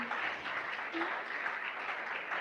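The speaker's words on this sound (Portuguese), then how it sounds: "E eu gostaria que você aplaudisse ao Senhor por essa história" Church congregation applauding at a missions celebration service, a steady wash of many hands clapping together at moderate distance, with a faint voice murmuring beneath.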